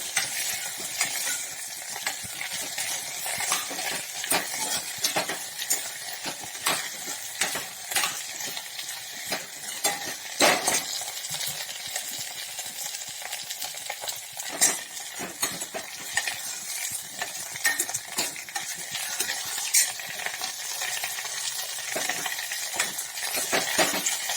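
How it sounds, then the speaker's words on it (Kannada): Fig tree shoots stirred and roasted in a pan on a low flame, with a soft steady sizzle under constant scraping and clinks of a spoon against the metal. "ಸಣ್ಣ ಉರಿಯಲ್ಲಿ ಚೆನ್ನಾಗಿ ಹುರ್ಕೋಬೇಕು."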